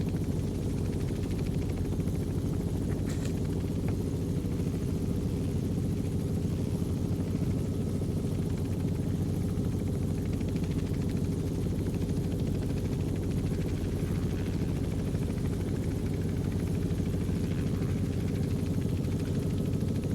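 Helicopter engine in a flight simulator game, a steady, loud, droning rotor and turbine hum that continues unbroken throughout with no talking.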